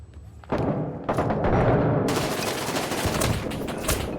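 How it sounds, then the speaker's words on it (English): A C4 charge detonates in a shooter video game, a sudden loud blast followed by a sustained burst of rapid gunfire and heavy thuds that continues to the end. "I just planted a C4 in front of me"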